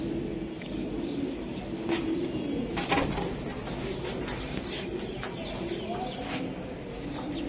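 Racing pigeons coo in low, repeated murmurs, a steady soft backdrop with a few sharper bird sounds rising above it.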